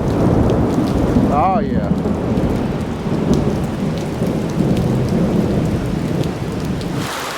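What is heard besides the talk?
rain and thunderstorm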